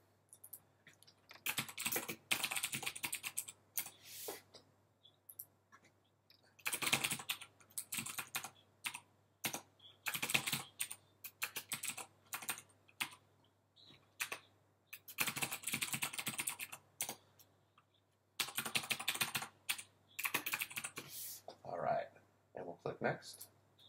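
Someone types a Windows password on a computer keyboard. Close, crisp key clicks come in rapid bursts separated by short pauses, repeating throughout.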